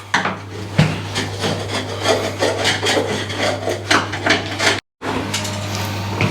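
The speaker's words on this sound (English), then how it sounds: "You can use a chisel like this, scrape it off, push it against the towel like that and scrape it off." A chisel blade scrapes old silicone sealant off the edge of a bath in repeated rough, rasping strokes, close and fairly loud, with one brief complete silence near the end and no talking.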